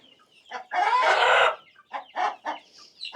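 Australorp chickens and chicks being fed crumbled egg cluck close by, with one long loud crowing-like call followed by several short clucks.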